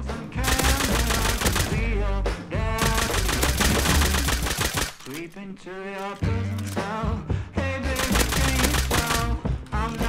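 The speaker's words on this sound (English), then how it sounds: "Nail gun versus nail gun." Nail guns firing during a fight in the survival video game Rust, a dense, loud run of rapid shots layered over game sound that continues with only brief dips for about ten seconds.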